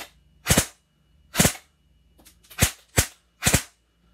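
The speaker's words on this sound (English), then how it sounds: "Go ahead and popping it to semi-auto, turning on my Ace Tech chronograph, and taking a shot in semi-auto." An Airsoft GI custom airsoft rifle fires single semi-auto shots, five sharp pops spaced about a second apart, close and crisp against a quiet background.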